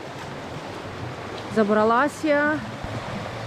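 Flowing Ashe river in a mountain valley near the village of Kalezh, a steady broadband rush of water running throughout, with someone speaking briefly over it in the middle.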